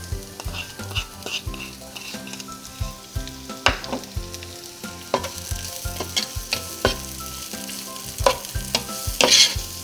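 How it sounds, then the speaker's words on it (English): Onions sizzle and fry in a large pot while a spoon repeatedly scrapes and stirs them, producing steady crackling with irregular knocks, close up, under background music and without talk. "I'm going to saute these onions for a few minutes."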